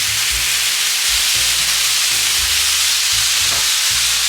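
Glass noodles and sauce for japchae stirred together in a hot pan, with a continuous loud sizzle and hiss over repeated low scraping and clunking strokes of the utensil.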